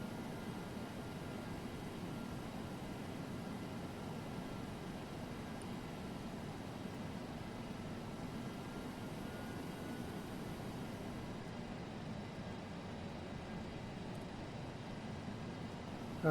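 DC-8-73F jet engines idling and rumbling steadily while taxiing in Flight Simulator X, a constant broadband whine and roar with no talk.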